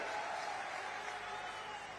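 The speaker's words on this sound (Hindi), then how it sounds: "जोरदार ताली बजाओ इस बात के लिए।" A crowd at an Uttar Pradesh political rally claps, a steady, distant wash of applause at low level that holds for the full two seconds.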